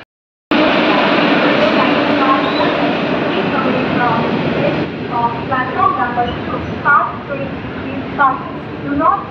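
A crowded local train travelling from Badlapur toward Karjat roars steadily and loudly, with rumbling wheels and rattling carriages throughout, its noise fluctuating as it approaches a station.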